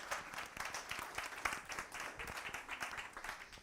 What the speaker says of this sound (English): Clap your hands for me now.